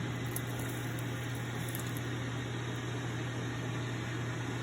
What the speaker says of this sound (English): And I'm frying 4 eggs in a little olive oil